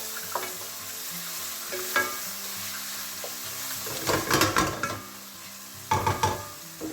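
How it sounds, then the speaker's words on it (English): Garlic mushrooms sizzle steadily in a frying pan while being stirred, with clusters of scraping utensil strokes standing out near the end; no one speaks. "once they're cooked, give them a good mix up"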